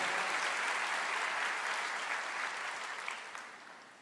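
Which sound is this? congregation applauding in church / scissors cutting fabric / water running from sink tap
congregation applauding in church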